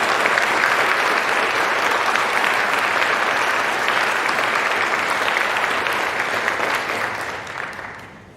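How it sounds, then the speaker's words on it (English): Audience applause for mentors at a Phi Theta Kappa honor society induction ceremony; a dense, sustained round of clapping from a large crowd that holds steady for several seconds before fading out. "Let's give these mentors a round of applause for the lives that they have impacted."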